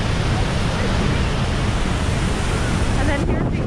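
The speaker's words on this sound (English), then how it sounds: "this amazingly powerful waterfall" Niagara Falls in November thunders as a steady, dense roar of falling water, continuous and loud, with no voices over it.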